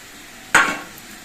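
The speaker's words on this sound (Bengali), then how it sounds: "মোচাটা কিছুক্ষণ রান্না হয়ে যাওয়ার পর এর মধ্যে চিংড়ি মাছগুলো দিচ্ছে" Prawns drop into a banana flower curry cooking in a pan: one sudden splash-like burst of sizzle that fades over a fraction of a second, heard alone.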